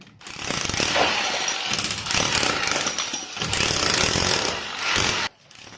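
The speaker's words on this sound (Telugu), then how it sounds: "దీన్ని అయితే కటింగ్ లేకుండా చిప్ చేద్దాం. మనకి ఏ విధంగా చిప్పింగ్ అవుతుంది ఏంటి అనే దాని గురించి తెలుస్తుంది." A 5 kg electric demolition chipping hammer breaks concrete without pre-cutting, a loud, close, rapid continuous hammering that runs for about five seconds with a brief dip, then stops abruptly.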